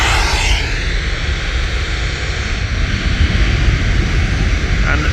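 Boeing 737 jet airliner at Manchester Airport, a loud continuous engine roar with broad rumbling noise heard from a viewing park, steady throughout with no talk.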